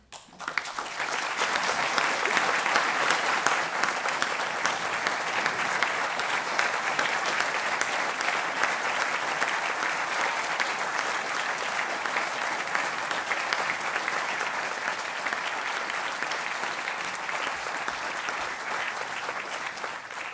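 A graduation audience at a Lampeter university ceremony applauds the faculty in a long, even wave of clapping that holds steady and strong for around twenty seconds.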